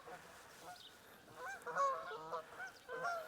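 Geese honk and call repeatedly at a moderate distance, several overlapping honks over a steady background rumble of wind and road noise.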